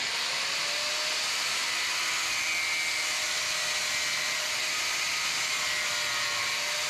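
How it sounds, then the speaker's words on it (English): A small angle grinder with a cutoff wheel slices through a Jeep Commander's pinch weld, giving a steady, high-pitched whine and hiss that holds for seven seconds, loud and close with no talking. "I'm going to go ahead and grab my little grinder with a cutoff wheel and start slicing this up."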